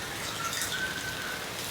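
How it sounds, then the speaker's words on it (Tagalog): Heavy rain falls as a steady, soft hiss of drops on surfaces, constant and fairly faint, with no voices. "ayaw ko sumugod sa ganyan lakas na ulan"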